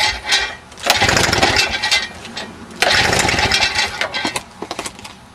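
A Victa Power Torque lawn mower that wouldn't start is cranked by hand. Two loud bursts of rattling, sputtering engine noise fade to quiet between them, ending in a few uneven pops close by.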